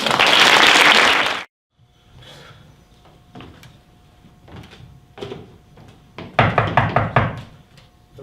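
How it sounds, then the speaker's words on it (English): Sharp, urgent knocking on a door: a loud burst of sound opens, then after a quiet stretch comes a quick cluster of hard raps, close and forceful. "The rap on the door was sharp,"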